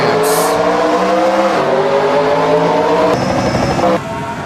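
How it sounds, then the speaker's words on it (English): Race cars roar loudly around Spa-Francorchamps in a NASCAR-style racing video game, with sustained engine drone and gear-shift pitch changes, easing slightly near the end. "We're going green again here at Spa-Francorchamps."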